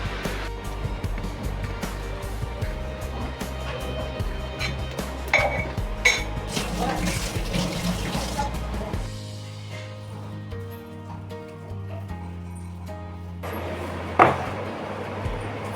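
Dishes, pots and pans being washed by hand, with scattered clinks, knocks and clatter of metal utensils over a steady low hum and running background noise, close by.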